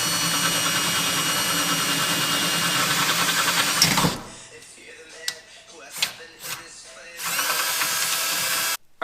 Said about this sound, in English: I'm going to get to drilling.